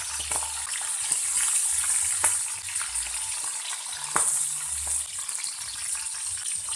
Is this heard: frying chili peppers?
yes